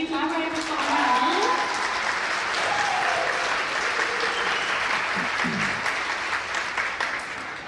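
Sustained applause from an audience at the Stenbro 2024 opening for a volunteer committee, dense clapping with a few voices and calls mixed in, holding steady before easing slightly toward the end.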